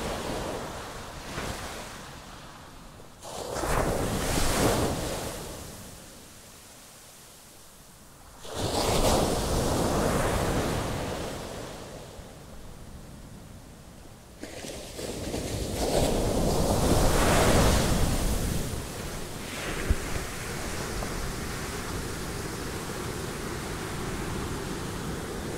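Gentle ocean waves roll in and recede in slow surges, each swell rising to a broad rushing hiss and fading back, close and steady with no voices.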